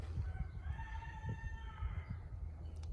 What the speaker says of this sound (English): Woods roosters. Chickens.